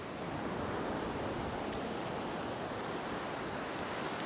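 Ocean surf on a beach with a southerly swell, a continuous loud wash of breaking waves rolling in close by with steady broadband rumble and hiss, no voices.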